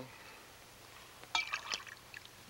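Water is poured into a glass in a brief, faint trickle that is quiet and close, with no talking.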